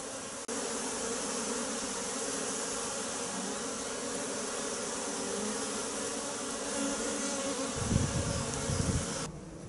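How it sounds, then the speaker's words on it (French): Honeybees fly around their hives in late January, giving a steady, dense buzzing drone that runs throughout at a moderate level, with a brief closer hum near the end. "On voit que les abeilles ramènent pas mal de pollen, ce qui est un petit peu inquiétant pour une fin janvier"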